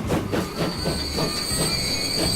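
Railway train running in the Transport Fever video game, set around 1888–92, with rhythmic clickety-clack of wheels over rail joints and a high, steady wheel squeal, continuous and fairly close with no talk.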